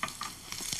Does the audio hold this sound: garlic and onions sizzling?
yes